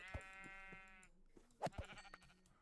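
Minecraft sheep bleating in the video game: a clear wavering baa up front, followed by quieter game effects and soft thuds, fairly faint overall with no talking.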